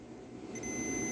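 Thin steady electronic tone of a continuity tester sounding faintly at a 1948 Ford 8N tractor's ignition strap, starting about halfway in and holding to the end, alone with no talk.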